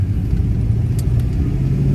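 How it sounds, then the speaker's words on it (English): A 1970 Pontiac GTO muscle car, rusty and not driven for a few weeks, drives along with a steady low engine rumble heard close from inside, with no talking. "All right, so I will take y'all with me on my little drive here."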